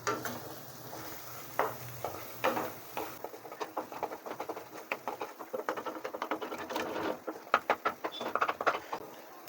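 Turmeric and Kashmiri chilli powder are stirred in a pan with a utensil, producing irregular soft scrapes and quick clicking taps that grow busier and more rapid, with no speech.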